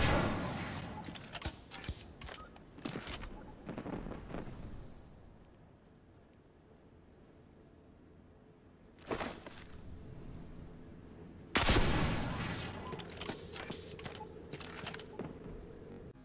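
Rocket launcher in the Destiny 2 video game: clattering mechanical reload clicks, a quiet lull, then two loud, sharp blasts a few seconds apart followed by more rapid mechanical clatter.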